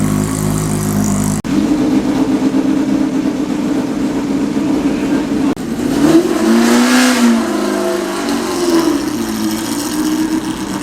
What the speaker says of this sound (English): historic racing, thin tyres, lots of opposite lock action and no silencing, fantastic sound.